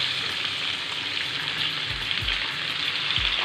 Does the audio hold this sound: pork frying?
yes